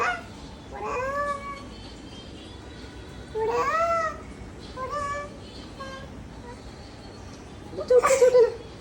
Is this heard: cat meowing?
yes